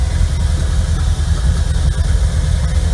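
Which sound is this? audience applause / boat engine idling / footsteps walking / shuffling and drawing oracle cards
boat engine idling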